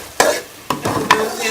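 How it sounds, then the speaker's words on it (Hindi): Semolina milk halwa stirred in a pan, three distinct scraping strokes of a spoon against the pan, close and moderately loud, with a soft sizzle between them. "इसको अच्छी तरह से आपने मिक्स कर लेना है।"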